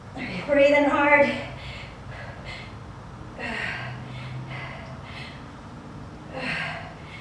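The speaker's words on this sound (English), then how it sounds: "Breathing hard." Heavy, ragged breathing after a HIIT workout, with a few loud gasping breaths near the start and softer panting exhales spaced out after.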